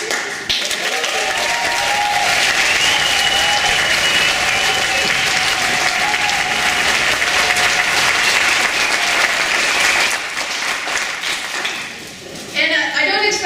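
A congregation at a memorial service applauds in a long, loud, dense round that holds steady for about ten seconds, then thins and dips before a brief burst of clapping returns at the end.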